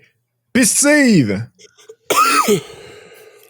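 A man coughs and clears his throat in a couple of short, harsh bursts with a gap between them, close up amid podcast chatter, with voices heard speaking nearby.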